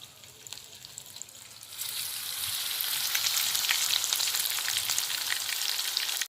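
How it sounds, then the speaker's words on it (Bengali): Battered amudi sea fish frying in oil, Bengali style: a quiet start gives way to a dense, crackling sizzle that stays close and steady to the end, with no voices. "দেখুন ভাজা হয়ে গেছে ওলট পালট করে লাল লাল করে ভেজে নিয়েছি"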